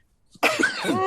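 A single sharp, close cough bursting out of near silence, trailing into a strained, raspy voiced sound.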